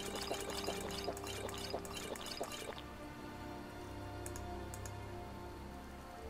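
Water pours and drips in a brief burst of splashy, rhythmic trickling as bottles are refilled in Skyrim, fading out after a few seconds into a steady ambient bed.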